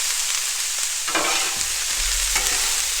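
Keto egg roll in a bowl mix stirred on a Blackstone flat-top griddle: a steady sizzling hiss with a few scraping spatula strokes and brief clatters, close and fairly loud, no talking.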